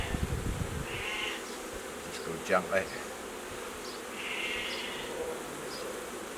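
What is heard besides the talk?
bees buzzing in a packed hive frame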